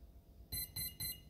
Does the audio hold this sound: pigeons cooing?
no